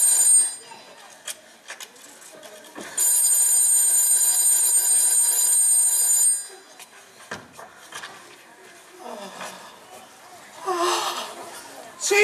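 A telephone bell rings in a stage play, a loud sustained ringing burst lasting about three seconds amid quieter room noise and faint voices before and after.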